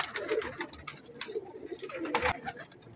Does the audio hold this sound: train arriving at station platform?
no